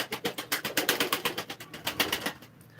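Pigeons at a live pigeon auction give a fast, regular pulsing coo. The throaty beats repeat several times a second, fairly faint and close, then trail off at the end.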